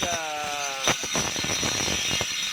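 Grinder working excess metal off a homemade hose, a continuous harsh whine with a steady tone and rough scraping bursts, loud and close.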